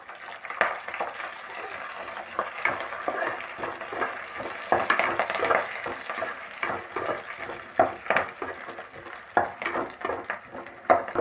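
Sliced onions and curry leaves sizzle steadily in a hot pan, with frequent stirring scrapes layered over the close, continuous frying hiss.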